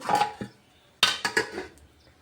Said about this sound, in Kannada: ಈಗ ಇವಕ್ಕೆ ಮುಚ್ಚಳ ಮುಚ್ಚಿಬಿಡಂಬ್ರಿ